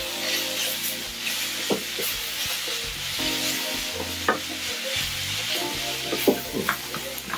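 Moringa leaves are stirred and sautéed in a pan, a soft sizzle broken by repeated spoon scrapes and knocks against the pan, close up, with a low hum underneath and no talking.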